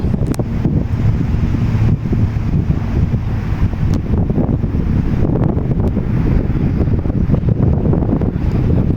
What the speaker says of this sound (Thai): ลมดีมากครับ